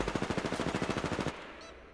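R-301 rifle from Apex Legends firing a rapid burst of about fifteen evenly spaced shots, loud and close, ending abruptly into quiet.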